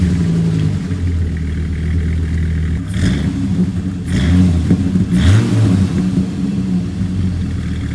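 A 2006 Dodge Ram SRT-10 with its 8.3-liter V10 idles with a deep, lumpy rumble, then three sharp revs rise and fall around the middle, loud and close with no voices.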